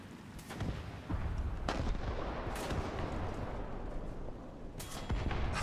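A Gepard anti-aircraft gun in War Thunder fires rapid bursts of cannon shots, loud heavy booms rolling over a constant rumbling battlefield din, with a few sharper reports standing out near the start and end.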